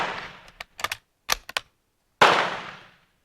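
Rifle shots from a Spanish Destroyer carbine ring out close and sharp, a handful of cracks in uneven bursts, with the last blast loud and echoing away alone.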